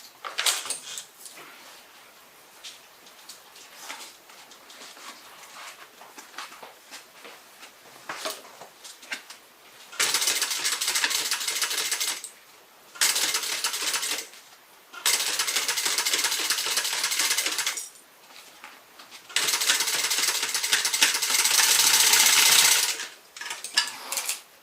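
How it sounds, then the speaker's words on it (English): A sewing machine stitches across a faux croc tote bag in four bursts of steady mechanical whirring, each run separated by short pauses, after a quieter stretch of faint handling sounds; no talking. "I'm going to start right where I left off, and I'm going to stitch right across to the other side."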